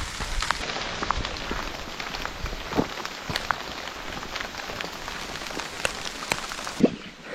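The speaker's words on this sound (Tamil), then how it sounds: "இன்னும் மழை பெஞ்சிட்டு தாங்க இருக்குது" Rain falls steadily outdoors in a hill village, a continuous hiss dotted with sharp pattering drops and occasional louder splats, close and fairly loud, with no one speaking.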